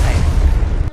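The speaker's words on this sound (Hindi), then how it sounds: "अचानक से एक बहुत बड़ा धमाका होता है" A loud, heavy explosion effect stands in for an oxygen tank blast aboard the Apollo 13 service module. It is a deep, rumbling boom that fills the low end and then cuts off abruptly.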